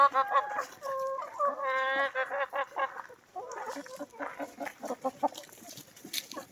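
Free-ranging hens let out to graze on fresh green grass after several days of rain cluck in rising, repeated calls, some drawn-out and sing-song, close and clear, with a low voice briefly underneath.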